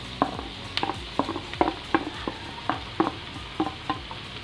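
Rice being stirred in a pan for Korean fried rice, a spoon scraping in repeated short strokes over a soft sizzle, close and fairly quiet, with clinks against the pan.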